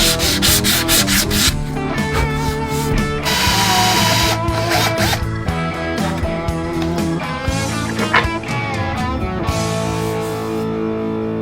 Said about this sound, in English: the next couple of days will be spent on a lot of sanding